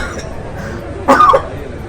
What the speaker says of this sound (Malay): nampaknya kita akan berhenti berehat sebab saya dah batuk